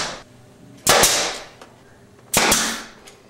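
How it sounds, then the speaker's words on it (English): A finish nail gun drives nails through crown molding at a wooden joint. Two loud, sharp snapping shots sound close by, each with a brief double crack and a short decaying tail, separated by a pause. "it's important to use a finished nail gun."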